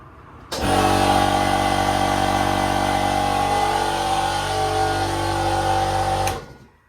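A generator starts up abruptly, runs with a steady loud droning hum for about six seconds, then cuts off and winds down, heard near a car bodywork job on a Fiat 500.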